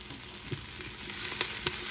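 Beef browning in the pot of an Instant Pot for a Mexican stew, a steady close sizzle with a few sharp crackles and pops over continuous frying hiss.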